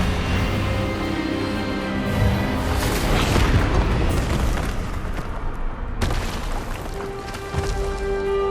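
Expelliarmus spell cast in the Hogwarts Legacy video game, heard as a dense, booming magical blast with rumbling low end and a sharp burst near the middle, followed by another impact, all over a continuous loud game soundscape.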